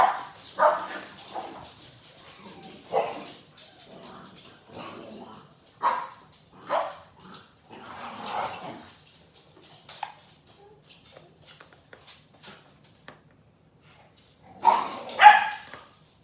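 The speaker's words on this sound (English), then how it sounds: "Got the dogs over here playing." Dogs bark and yip in short bursts at intervals while playing indoors, with some playful growly sounds between them, fairly close, and a louder flurry of barks near the end.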